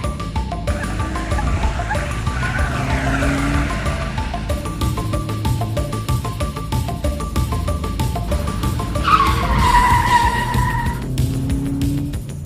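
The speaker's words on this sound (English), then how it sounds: "you smash the car into first gear, second, third, and you start to bolt through the streets of Epsilon City" A tabletop RPG sound effect of a car accelerating hard through the streets of a city, with rising engine revs and two bursts of squealing, skidding tyres. The sound is loud and close and plays alone with no talk.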